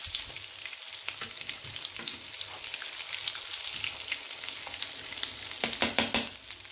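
Potato shami kebabs frying in a pan, with a steady crackling sizzle of hot oil across the whole stretch, sharper spattering pops toward the end, no voices.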